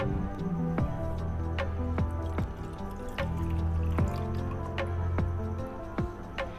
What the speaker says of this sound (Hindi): तो ये ऊपर का हिस्सा हम निकाल लेंगे इस तरह से, और इसमें से पानी हम निकाल लेंगे।